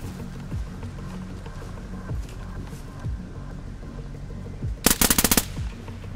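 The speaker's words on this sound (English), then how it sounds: "I'm getting shot at by a blue armband in the woods." Gunfire in the video game DayZ, from a blue-armband player in the woods: a sharp rapid burst of several shots near the end, after quieter ambient rumble with no talking.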